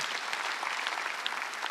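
A church congregation at a Sunday worship service breaks into applause, a dense, steady wash of many clapping hands heard alone for a brief moment.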